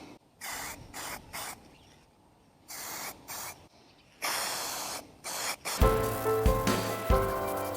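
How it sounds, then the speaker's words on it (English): A spray paint can lays a light first coat onto an engine in short bursts of hissing spray separated by pauses, close by, ending with a louder rattling clatter. "I'm going to go really light on the first coat, so let's see how it goes."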